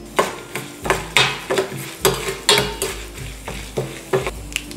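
Chana dal, urad dal, mustard seeds and cumin sizzling in hot oil in a pan, with a steady fry hiss and repeated clinks and scrapes of a spoon stirring against the metal, close and alone.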